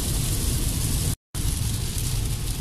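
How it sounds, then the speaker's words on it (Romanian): Heavy rain drums steadily on a moving car during a drive through Poland, a dense, loud wash of noise that cuts out briefly for a moment before resuming, with no voices. "Mare ploaie ce s-a pus."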